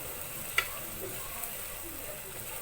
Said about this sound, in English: We're not going to be frying our vegetables for too long